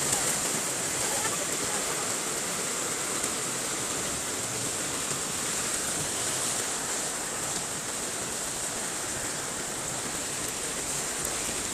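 Heavy rain and rushing floodwater in a flooded town street make a steady, dense roar that fills the whole stretch without pause.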